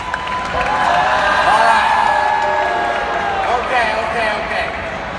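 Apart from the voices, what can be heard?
audience applause and cheering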